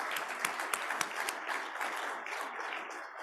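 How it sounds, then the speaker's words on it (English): A Kiwanis club audience at a meeting gives a steady round of applause, many hands clapping together at moderate distance, fading slightly toward the end. "So let's give a round of applause for all of those."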